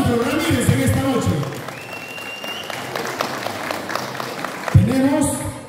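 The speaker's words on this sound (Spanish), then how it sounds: "El aplauso para el abogado Sandro Ramírez en esta noche" Audience applause for a guest lawyer at a queen election in Palora, a steady crowd clapping under an announcer's amplified voice, which speaks at the start and returns near the end.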